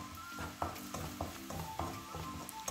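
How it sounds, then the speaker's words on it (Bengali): Wheat flour frying in mustard oil in a wok, heard as a soft, even sizzle under regular scraping strokes of a spatula, close but fairly quiet, with no voices. "এবার আটাটা তেলের সঙ্গে খুব ভালোভাবে ভেজে নিতে হবে।"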